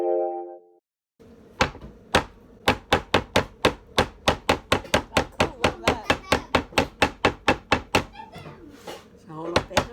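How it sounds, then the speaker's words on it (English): A knife chops spring onions and garlic on a board in fast, even, sharp knocks, about three per second, loud and close, after a brief moment of quiet at the start. "Chop up some spring onions and 2 cloves of garlic."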